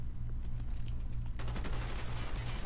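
Rapid gunfire in the shooter game Call of Duty: Black Ops, a dense continuous burst of shots over steady game music, growing louder and fuller partway through.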